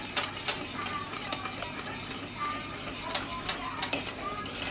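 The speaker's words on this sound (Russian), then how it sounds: "Все хорошенько размешиваем." A spoon stirs a Turkish Pasha lokum dessert mixture with vanilla sugar in a bowl, giving a close, continuous swishing broken by light clinks of the utensil against the bowl.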